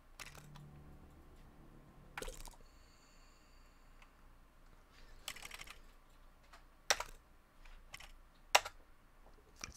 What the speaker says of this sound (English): I am not playing this on a freaking keyboard.